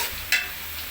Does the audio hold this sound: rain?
no